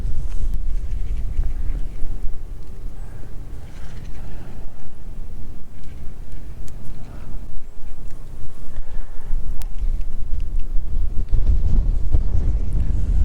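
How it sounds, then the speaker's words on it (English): Wind buffeting the microphone at a riverbank during winter bass fishing from the shore, a steady low rumble and roar that holds for the whole stretch with no talk. "the wind's blowing left to right"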